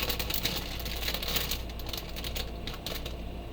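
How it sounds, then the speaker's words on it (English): Plastic packaging crinkles while Gothic Rainbow Gradient cotton natural fiber yarn is unboxed: a close, steady crackly rustle with sharp little snaps scattered throughout, and no voices. "Sorry for the crinkling."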